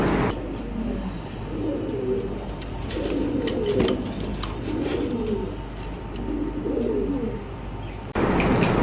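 A male running pigeon coos, several rolling throaty calls in a repeating rhythm, close and clear over steady background noise, with a louder burst of noise at the very end.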